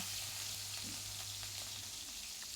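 Shrimp rubbed with salt and turmeric frying in hot oil, giving a steady, even sizzle with no pauses, close by and with no talking.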